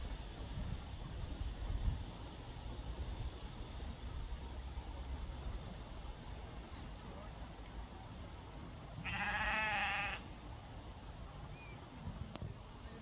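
A single sheep bleats once at a sheepdog trial in Finland, a short wavering call from a moderate distance over low outdoor rumble and faint background murmur.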